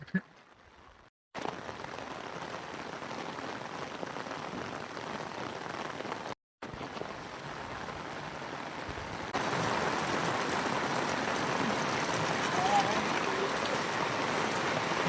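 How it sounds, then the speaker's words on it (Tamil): Steady morning rain falls on a Diwali day in Tamil Nadu, a dense continuous hiss that drops out briefly twice and then grows heavier and louder toward the end, with no voices. "என்னையா காலையிலே மழை இப்படி பெய்யுது"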